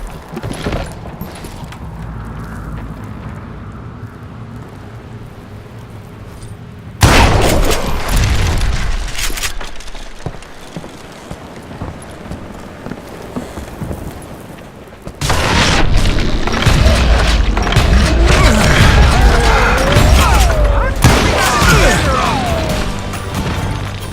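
Dynamite blasts in the Western shooter game Call of Juarez Gunslinger, with two massive booming detonations followed by long rumbling crashes and debris. The blasts are loud and close, and quieter ambience plays between them.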